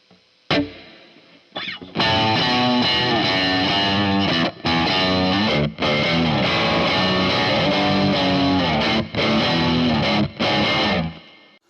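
High-gain distorted electric guitar through a Strymon Iridium amp and cab simulator with a light touch of reverb, heavy low-end riffing in chugging bursts with brief gaps, loud and close, no talk.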